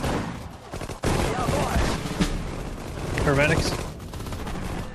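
Machine-gun fire and other gunshots crackle in dense bursts during a Sudden Strike 4 battle, mixed with battlefield effects and brief voices.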